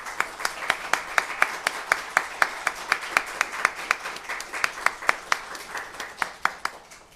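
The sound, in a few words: audience applause welcoming a speaker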